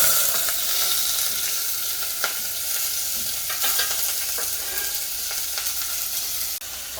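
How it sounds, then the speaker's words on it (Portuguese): Onion frying in hot, smoking olive oil for a sausage ragù, a dense steady sizzle with occasional crackles and spoon scrapes, close and loud with no talking. "o azeite de oliva fica bem, já começou a fumegar, tá? E aí a gente vai começar então primeiramente com a cebola"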